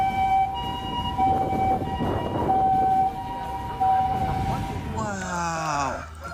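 A toy ambulance sounds its siren in short, steady electronic tones that repeat in bursts against a low background rumble. A voice comes in near the end.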